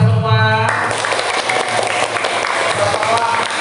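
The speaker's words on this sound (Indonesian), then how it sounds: "tepuk tangan untuk kita semua" Classroom applause bursts out after a teacher's spoken line, a dense wash of many hands clapping that fills the room for a few seconds, loud and close.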